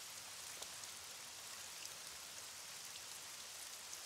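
Steady rain falling outside in a cartoon scene, a soft continuous hiss of drops with faint patters, quiet and even throughout, no voices.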